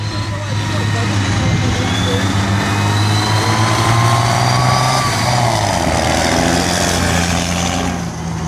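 An Alvis Scorpion armoured fighting vehicle runs its engine loudly and steadily at a demonstration, holding a continuous heavy rumble with slight pitch shifts as it moves nearby.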